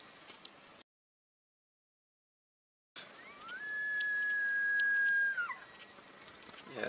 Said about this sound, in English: You can hear him bugling.